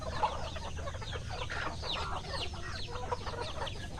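Chickens cluck and squawk agitatedly in a busy farm flock, several birds fighting and calling over each other in a scuffle, at moderate distance.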